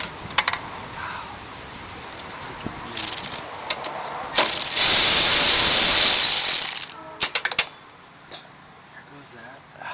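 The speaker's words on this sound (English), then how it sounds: "Now, we're going to drop the bowl nut. It's 10 millimeter." A ratchet clicks in short bursts as it loosens the 10 mm bowl nut on the carburetor of a Husqvarna ST224 snow blower, with a long louder hiss of spray in the middle and a few more clicks afterward.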